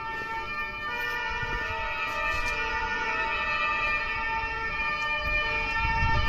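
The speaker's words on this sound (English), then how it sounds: "that's probably the first ambulance I've heard" An ambulance siren wails in a Potsdam, Germany street, holding steady tones and rising slightly in volume as it approaches, with low road rumble underneath and no talking.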